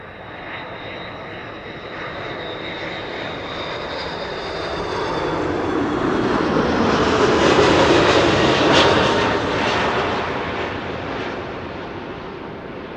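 An Airbus A330-200 airliner arriving at Amsterdam Schiphol Airport on a sunny day, its engine roar swelling from a distant rumble to a loud, broad pass overhead around the middle, then slowly fading away, with no talk.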